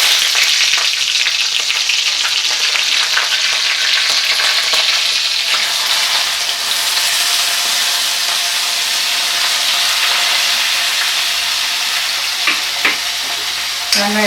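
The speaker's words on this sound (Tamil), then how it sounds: "வெங்காயம் நல்லா வதக்கிக்கலாங்க." Onions sautéing in a pan with fennel, cinnamon, cloves, bay leaves and green chilies: loud, continuous close sizzling and frying hiss with occasional stirring scrapes and clinks.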